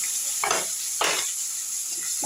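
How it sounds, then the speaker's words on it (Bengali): Potatoes sizzle steadily in a hot pan while being stirred for a rohu fish and cauliflower curry, with three distinct scraping stir strokes rising over the constant frying hiss. "আলুটা একটু নেড়ে দেবো।"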